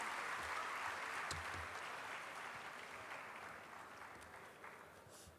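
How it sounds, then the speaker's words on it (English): Faint, distant applause from an audience at a felicitation ceremony for CA Avinash Narayanam, a soft steady wash of clapping that gradually tapers off over several seconds. "Please put on a huge round of applause for CA Avinash Narayanam"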